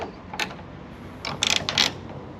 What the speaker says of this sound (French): je vais pouvoir prendre mes deux clés de 13 pour mettre un coup de clé sur l'écrou